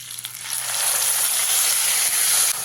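Whole spices, including nigella seeds, fry lightly in hot oil in a pan for a katla fish curry, giving a dense, steady bright hiss that swells within the first half-second and holds loud and close.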